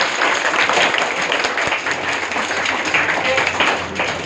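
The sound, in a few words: audience applause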